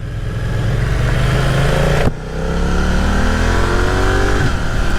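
A 2020 BMW F900R Sport Style roadster motorcycle revs hard and close, its engine pitch climbing steadily, dipping briefly at a shift, then rising again with a loud, continuous roar.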